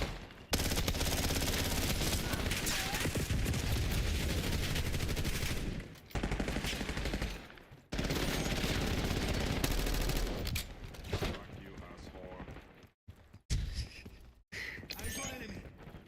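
Rapid automatic gunfire from a Call of Duty: Black Ops 6 multiplayer match, dense and loud for long stretches with brief gaps, mixed with game effects and a voice talking over it.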